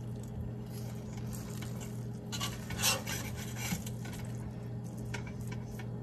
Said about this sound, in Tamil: ரைஸ் நல்லா கலந்து விட்டுக்கோங்க